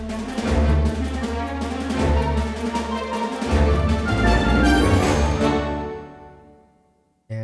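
An orchestral passage in a fantasy-style mock-up, a sweeping harp run over sustained basses and cello, full and warm throughout before fading out.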